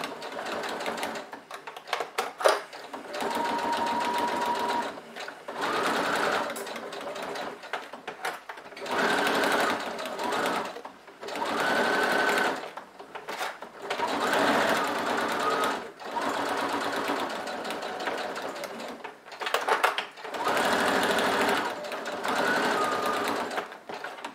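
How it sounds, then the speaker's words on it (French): Sewing machine stitching along a piping seam on a fabric pouch, several bursts of fast, even motor whirring with short pauses between, close and loud, no talking. "je couds donc sur la couture existante du passepoil"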